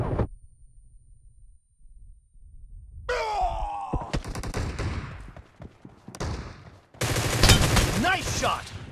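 Gunfire bursts from a BGMI (PUBG Mobile) team deathmatch, with several loud shots and dense volleys in the second half after a quiet, low-rumbling start, plus a tonal game cue.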